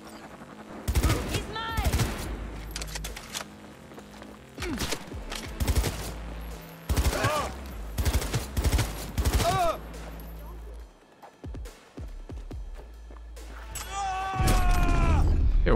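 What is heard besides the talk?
gunfire from cops in video game Cyberpunk 2077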